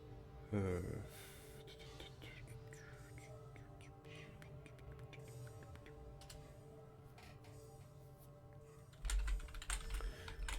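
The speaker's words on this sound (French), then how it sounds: "Excusez-moi pour les bruits de clavier" Soft, rapid computer keyboard typing clicks on and off over a faint hum, with quiet muttering underneath and a louder thump near the end.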